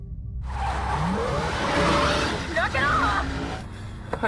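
A car is driven recklessly in a film scene and its tires skid. A loud, steady engine roar is joined by screeching tire squeals partway through, with panicked voices underneath.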